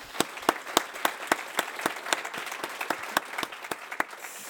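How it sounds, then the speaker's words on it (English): A small audience at an academic award ceremony gives sparse applause for a young researcher award winner, individual claps sounding distinctly in a loose, uneven rhythm that thins toward the end. "Let me give you again an applause and congratulate you again for this award."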